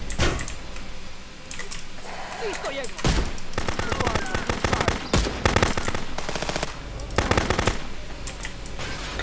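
Rapid automatic gunfire aimed at the player in the Contraband Police border-patrol video game, loud and close, with repeated dense bursts of shots throughout and scattered impacts between them.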